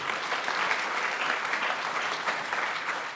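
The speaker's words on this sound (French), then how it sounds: "je vous demande de l'applaudir puisqu'il est là parmi nous" Audience applause at a French awards ceremony, a steady dense patter of many hands clapping for the full few seconds, fairly loud and without voices.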